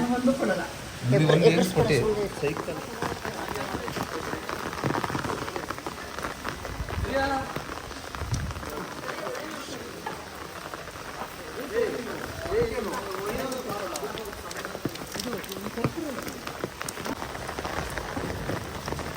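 Continuous rain pattering on a surface, with people talking over it throughout at close range.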